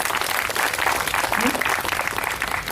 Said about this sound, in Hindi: इनके लिए एक ताली बनती।